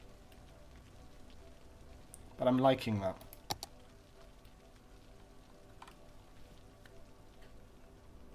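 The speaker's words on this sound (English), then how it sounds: "It's raining a lot." Steady, soft rain ambience in the city-building game Cities: Skylines, a constant gentle patter with a brief spoken remark partway through.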